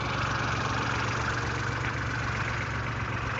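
A farm vehicle's engine idles steadily as manure is unloaded at a grape farm plot, a constant low, even rumble close by with no change in pitch and no voices.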